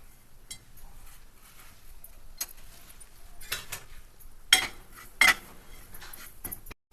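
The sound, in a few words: stirring roasted semolina and vermicelli in a pan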